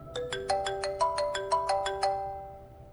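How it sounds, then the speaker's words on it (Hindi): A mobile phone ringtone plays a bright, repeating melodic pattern of about ten evenly spaced electronic notes, clear and close, then stops. "माँ जी का फोन है।"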